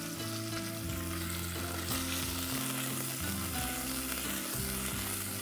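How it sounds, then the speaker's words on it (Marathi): Sliced onion with ginger-garlic-chili paste fries in a pan with a loud, continuous sizzle, with occasional stirring under the steady crackle and no talk. "आणि आता कांदा छान असा मऊसर होऊन द्यायचा आपल्याला."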